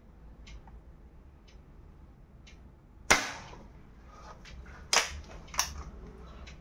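Shots from an SDB Sniper Nitro toy blaster fired at 25 feet: three sharp, snappy cracks, one at the midpoint and two close together near the end, over faint background ticking.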